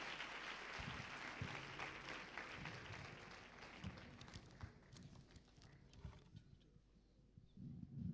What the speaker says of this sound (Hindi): ताली बजा के प्रभु के दास का हम स्वागत करें